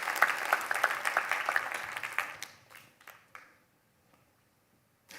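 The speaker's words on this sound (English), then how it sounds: "Yeah, round of applause." Audience applause at a Next.js developer conference that starts lively with crisp claps, then thins and fades out to near silence, with a few scattered claps at the end.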